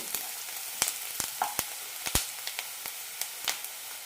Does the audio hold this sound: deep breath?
no